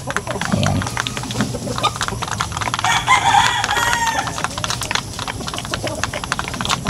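Asil and Basilan chickens in a ranging area cluck and crow around feeding time, a rooster's crow rising in the middle over busy farmyard noise, with a person's voice now and then.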